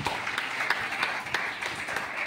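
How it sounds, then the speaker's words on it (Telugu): An audience applauds two brothers who played keyboard and pad, producing a steady, dense wash of many hands clapping at an even level throughout. "ప్రేమకి ఇద్దరికి కూడా గట్టిగా మీరు చప్పట్లు కొట్టండి."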